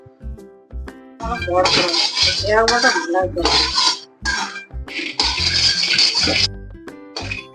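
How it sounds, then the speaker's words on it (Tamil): Peanuts dry-roasting in a pan for chutney: a spatula scrapes and clinks steadily against the metal, with the nuts rattling close by, while voices talk over it. "அதுக்கு மேல வேர்க்கடலை நல்லா வறுக்கிறாங்க பாட்டி"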